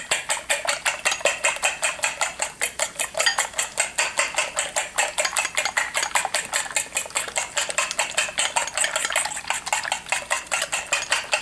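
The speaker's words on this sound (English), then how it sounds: "And I'm going to beat them a good bit." Eggs mixed with a spoonful of water beaten briskly in a bowl with a fork or whisk for an omelette, a fast, steady run of sharp clinks against the bowl, close and loud throughout, with no talk.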